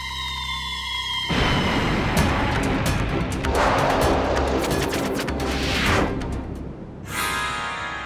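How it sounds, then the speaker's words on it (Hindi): A loud burst of firecracker cracks and booms in an animated cartoon rolls on for several seconds, dense and chaotic, fading briefly before another sharp blast near the end. "पटाखा धमाका।"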